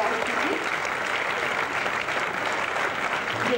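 Audience applause at the 7th Sahyog Awards ceremony as an honoree is welcomed to the stage, a dense, even wash of clapping that holds steady and loud with no pause.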